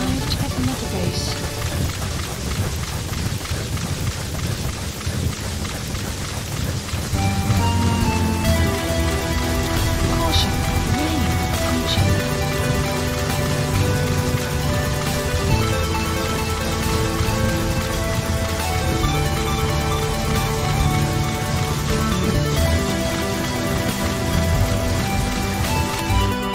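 Rain falls steadily in the stealth action game Metal Gear Solid V, a constant hiss running under game music and a low rumble for the whole stretch, with no speech.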